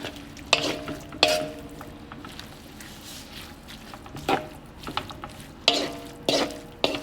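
Dinuguan being stirred with seasoning in a cooking pan, with wet scraping strokes and sharp spoon knocks at uneven intervals over a low sizzle, heard close up with no talk.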